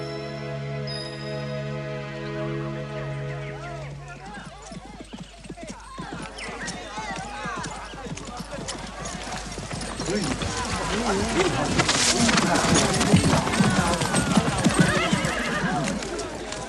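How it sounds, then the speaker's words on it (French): Horses whinny loudly at the start, then many hooves clip-clop over ground and grow louder and busier as the herd draws near, with voices talking underneath. "ces chevaux sont un présent du roi George"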